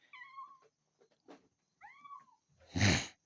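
A cat caught in a live trap on a farm meows several times in short, rising-and-falling calls, followed by a loud rustling thump as it struggles against the cage.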